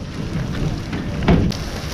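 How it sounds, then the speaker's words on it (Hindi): Rain falls outdoors in Dadyal, Mirpur, Kashmir as a steady, dense broadband wash with a brief louder burst, no voices over it. "बारिश आ गई"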